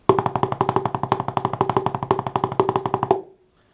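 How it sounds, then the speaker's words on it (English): A fast, even run of about two dozen drum strokes played as a double paradiddle rudiment on a tight, ringing drum, played alone, closely miked, ending abruptly with a short ring. "the sextuplet becomes a double paradiddle"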